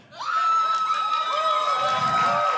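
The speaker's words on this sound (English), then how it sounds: "this level of shriekery that is occurring here in the front" A young girl shrieks at the front of a convention panel audience at PAX East, a sustained high-pitched squeal with a crowd murmuring and cheering faintly behind.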